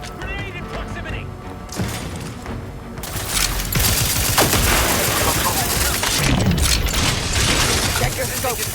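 Grenade explosion and gunfire in the video game The Outer Worlds 2, a heavy blast followed by sustained bursts of shooting and impacts, loud and busy, with game voices speaking over the action.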